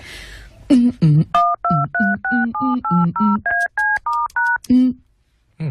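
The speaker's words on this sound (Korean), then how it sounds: "전화 좀 걸게." A telephone keypad being dialed gives a quick run of about a dozen sharp two-tone beeps, evenly spaced and loud, with short voice-like bursts at the start and end.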